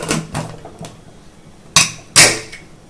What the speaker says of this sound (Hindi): अब देखिए मैं कुकर बंद कर रही हूँ।